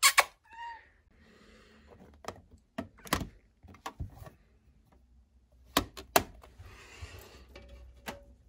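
A pet cat gives a short meow at the start, then a quiet room follows with scattered sharp clicks, knocks and rustling handling noises spread irregularly across the span.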